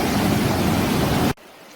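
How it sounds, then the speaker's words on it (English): Water rushing down a flooded river past Seneth Falls, a loud, dense, steady roar that cuts off abruptly to quiet near the end. "you can see how whooshy all the water is coming down the river. Doesn't it make a lot of noise?"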